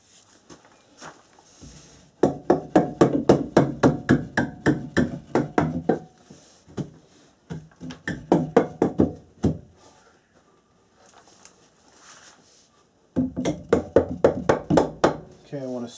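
A hammer knocks wooden subfloor edge blocking into place during a bathroom remodel, with rapid, rhythmic bursts of sharp wooden strikes separated by short pauses, close and fairly loud.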